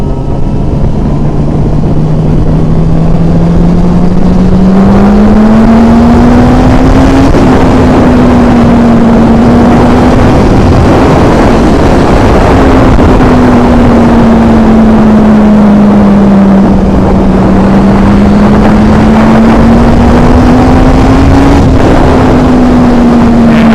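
A motorcycle engine drones steadily and loudly up close, its pitch rising and falling in slow waves as the revs climb and ease off over about twenty seconds, with no voices.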